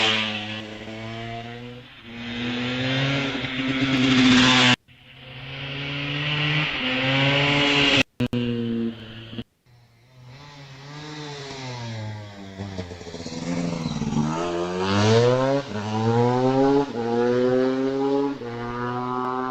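A 250cc KTM motorcycle at a hillclimb revs hard and accelerates away, its engine note climbing through the gears in loud, close, rising sweeps with brief breaks between shifts, then fading slightly as it pulls off.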